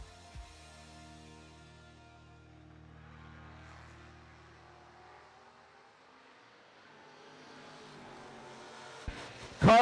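A Camaro and a Nova at a drag race roar off the line together, and their engine noise fades into the distance as they run down the strip. A sharp burst of sound comes at the very end.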